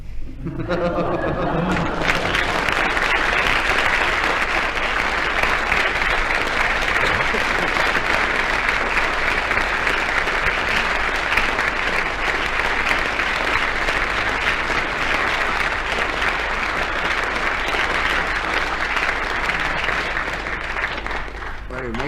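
A radio panel-game studio audience breaks into sustained, loud applause that fills the whole stretch at an even level, with faint laughter mixed in near the start.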